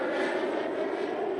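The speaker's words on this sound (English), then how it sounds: "Look at how nicely that plane is gliding." Distant, even hum of an airplane with pointed wings gliding overhead, a smooth sustained engine drone with no voices over it.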